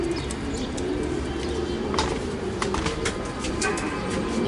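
Pigeons and young squabs in a loft give low, steady cooing throughout, with scattered clicks and light rustling from nearby movement over constant background noise.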